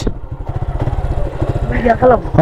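A small motorcycle engine idles and revs in a fast chugging pulse close by while a beginner learns to ride, with someone speaking over it near the end.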